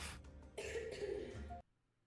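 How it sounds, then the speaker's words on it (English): A single person gives a rough cough and throat clear close by, lasting about a second before cutting to near silence. "That's somebody coughing."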